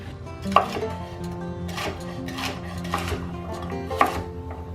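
Roasted vegetables for a vegan, oil-free curry are chopped on a board: four or five firm, hollow knife thuds at an uneven pace, close and clear, with a faint hum beneath and no speech.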